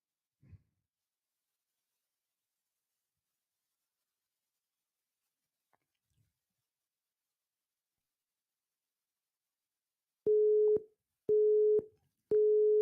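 A telephone busy signal repeats as three steady, evenly spaced tones near the end, loud and close after a long stretch of near silence broken by a few faint clicks.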